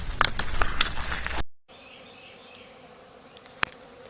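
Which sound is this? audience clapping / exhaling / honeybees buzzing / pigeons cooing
honeybees buzzing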